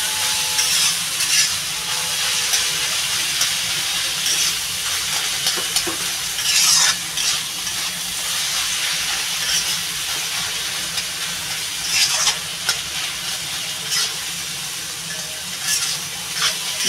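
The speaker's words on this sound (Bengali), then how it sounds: "বেশ সুন্দর লাল লাল করে ভেজে নেব।" Garlic fries in a hot pan with a steady, dense sizzle and hiss throughout, broken now and then by brighter crackling bursts as it is stirred, loud and close with no voices.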